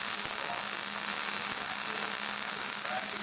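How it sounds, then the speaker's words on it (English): Steady crackling sizzle of MIG welding beads being laid on a shock tube bracket for an R32 Skyline build, continuous and close, with no talking. "So I'm not just going to weld beads all at once."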